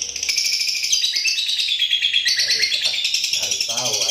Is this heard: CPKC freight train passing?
no